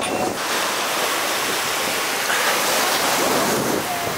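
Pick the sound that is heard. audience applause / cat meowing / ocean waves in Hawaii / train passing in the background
ocean waves in Hawaii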